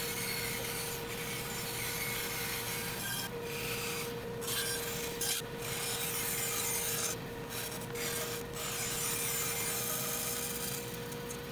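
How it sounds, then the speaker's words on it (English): Quiet workshop cutting of plywood on a bandsaw followed by disc sander smoothing of curves, giving a continuous rasping, rubbing whir with a steady tone and brief pauses as the wood is moved. "I cut out the space for the arms on the bandsaw and smoothed some curves with the disc sander"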